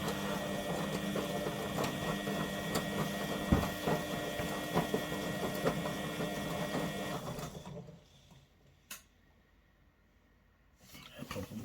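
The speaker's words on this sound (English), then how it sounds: "What I'll do now is I'll just periodically record certain highlights throughout the wash cycle." A washing machine runs with its back and top covers off, a loud mechanical whir and rattle that stops abruptly partway through, leaving near silence broken by a single click.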